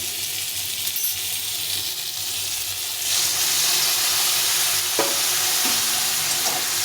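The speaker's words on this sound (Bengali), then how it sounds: "এটাকে ভালো করে একটু কষিয়ে নিতে হবে" Spice paste with turmeric and salt being sautéed with potato and pointed gourd in a pan, a loud continuous sizzle that swells halfway through, broken by a couple of sharp clinks of a spoon against metal.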